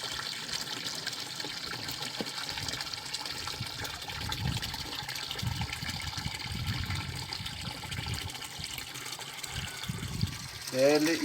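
Water from a village fountain in a mountain pasture flows and trickles steadily, a constant gushing wash with low splashing throughout, heard outdoors at moderate distance.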